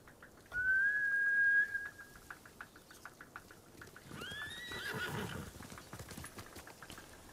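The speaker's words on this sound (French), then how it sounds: "Ces idiots ont fait peur aux chevaux." Frightened horses in the video game Ghost of Tsushima let out a loud, high whinny, then a second shakier neigh a few seconds later, over soft hoof clatter and wind.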